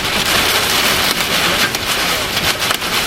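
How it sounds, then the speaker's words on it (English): Heavy rain and small hail drum steadily on a car during a severe Nebraska thunderstorm, a loud, dense, continuous pelting close around the vehicle. "Small hail."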